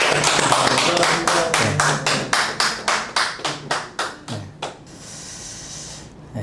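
A church congregation gives a round of applause, a brisk burst of many hands clapping in a loose rhythm that thins into separate claps and fades out, with no talking over it.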